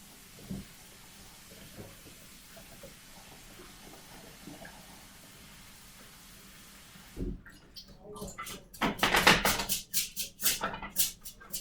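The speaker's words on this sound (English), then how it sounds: "I'm just gonna rinse it until it's not like a starchy white color coming out." A tap runs over rice in a strainer, rinsed in a home kitchen, a low steady trickle at first, then louder bursts of splashing water and clattering in the second half.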